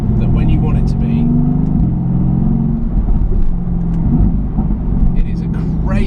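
A Mercedes-AMG GT S sports car engine rumbles low and steady at close range, swelling slightly as it comes up to speed, with someone talking over it.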